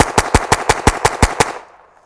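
A rapid string of about eight suppressed rimfire gunshots firing subsonic ammunition through a small silencer, evenly spaced sharp pops close by, then quickly fading to quiet.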